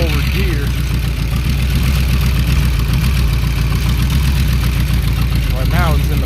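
A Ford 351W V8 coupled to a C4 transmission idles on a ground-test stand with a steady, loud, low rumble and constant vibration throughout, while a voice speaks over it.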